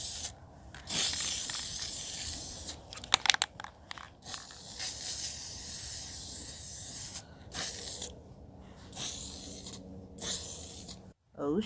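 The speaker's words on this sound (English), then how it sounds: "go back outside and apply that first coat of gold paint" Gold spray paint goes onto EVA foam cosplay armor for a Wonder Woman build outdoors, heard as sustained close hissing bursts separated by brief pauses, with a few sharp clicks from the can.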